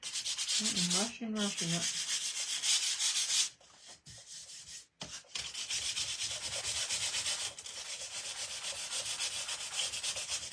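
Hand sanding across a stenciled wooden sign with not-yet-dry paint gives a steady, close scratchy rubbing that runs almost the whole time, pausing briefly in the middle, with a short spoken remark near the start.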